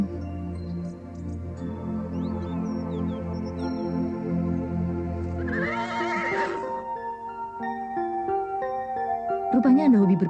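A horse whinnies loudly in a long, wavering neigh with a falling pitch, over a sustained low musical backdrop, followed by further tonal music and a second brief neigh near the end.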